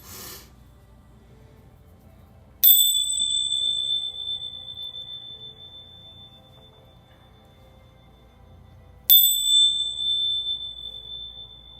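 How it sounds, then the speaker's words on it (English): Bells rung twice during a quiet spiritual reading, each a single clear, high metallic strike that rings out and slowly fades, with near silence between them. "And I'm going to do my bells really quickly too"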